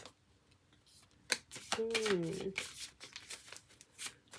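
Tarot cards are shuffled and drawn, with papery flicks and riffling bursts up close, and a brief voiced sound in the middle.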